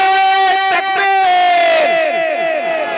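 A crowd at a Simdega jalsa roars a Takbir slogan in unison, a loud sustained chant held close that swells and trails off in overlapping voices.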